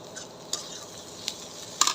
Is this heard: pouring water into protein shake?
no